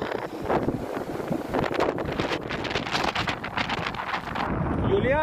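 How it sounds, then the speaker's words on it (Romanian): Strong gusts of up to 85 km/h drive snow across a road in a blizzard, the wind roaring and buffeting the microphone in loud, ragged bursts throughout. "Vântul a bătut cu până la 85 de km pe oră și a viscolit zăpada."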